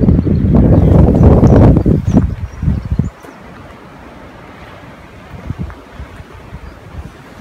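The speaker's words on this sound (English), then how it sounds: "I'm just filming from inside because it's really windy out there" Strong wind blasts across a microphone at an outdoor cabin build site, loud and roaring for about three seconds, then dropping to a softer, steady rush with small gusts.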